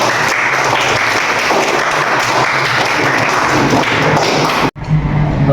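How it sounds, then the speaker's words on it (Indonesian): Classroom applause from pupils at the end of a lesson, dense steady clapping filling the room for several seconds before cutting off abruptly near the end. "tepuk tangan untuk kita semuanya"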